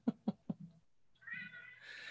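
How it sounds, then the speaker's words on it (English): A cat meows in three short, close calls, followed by a longer, rising plaintive meow that trails into a higher whine. "can you hear that silly cat?"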